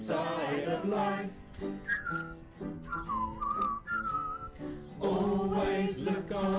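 Melodic whistling carries a tune over steady instrumental backing, rising and falling in pitch with sustained notes, loud and close.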